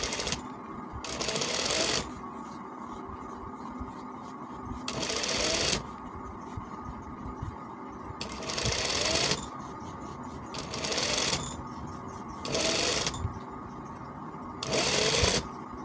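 An electric sewing machine stitches a kameez collar in repeated runs of rapid, steady mechanical whirring, with short pauses and soft handling sounds between bursts, close and fairly loud.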